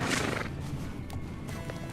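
In the video game The Legend of Khiimori a horse lets out a loud, near whinny at the start, followed by a few soft hoof clops over faint outdoor ambience.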